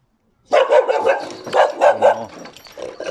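A dog barks in a rapid run of loud, close yips and bow-wows while chasing birds, bursts clustered over a few seconds with brief whimper-like tones between.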